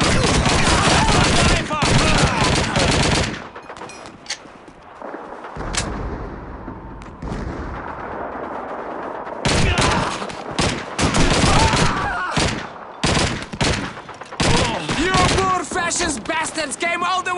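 Dense, loud gunfire from the World War II shooter Call of Duty 2 fills the battle, with rapid fusillades, machine-gun rattles and heavy booms arriving in bursts and a short lull near the middle.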